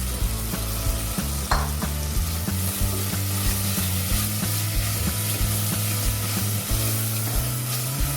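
Finely chopped chicken fries in a hot pan for a Bangalorean chicken ash, with a steady, loud sizzle and repeated stirring scrapes throughout, no voices.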